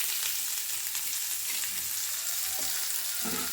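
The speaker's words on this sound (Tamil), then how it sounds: "சட்டி எண்ணெய் ஊற்றிக்கலாம். போதும். வெங்காயம் போட்டுக்கலாம்." Onions sautéing in hot oil in a pan for sambar, a continuous dense bright sizzle that holds steady throughout, with faint stirring scrapes near the end.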